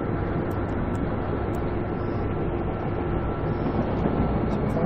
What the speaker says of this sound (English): I love the wheel clacking sound that they have behind me.